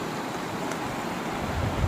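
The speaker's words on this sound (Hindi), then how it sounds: "झरने की जो आवाज़ है, कल कल बहती हुई नदी की, बहुत प्यारी आवाज़ है।" A river near Rishikesh flows steadily in an unbroken, broadband wash of water, with low rumbling underneath. The rushing is close and moderately loud, with no voices over it.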